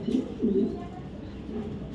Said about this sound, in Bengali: একটু দেখাই কবুতরটা